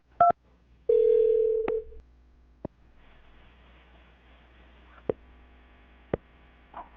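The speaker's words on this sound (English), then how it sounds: "I'm going to dial her phone number right now" Telephone number being dialed: a brief tone pair, then a sustained dial tone for about a second, followed by scattered single keypress clicks spread out over several seconds above a steady low mains hum.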